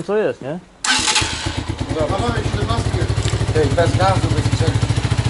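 A Romet K125 motorcycle engine with a Mikuni VM22 carburettor starts and settles into a steady, rhythmic idle with fast regular pulses, close by, while people talk over it.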